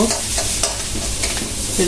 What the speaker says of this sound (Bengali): আমার কচুগুলো ভাজা হয়ে গেছে